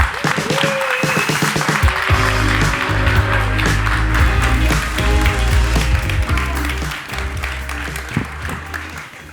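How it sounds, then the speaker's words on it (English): Audience applause welcoming a keynote speaker at an e-mobility conference, steady clapping from the hall under loud music with a strong beat, lasting several seconds. "Let's have a round of applause for him."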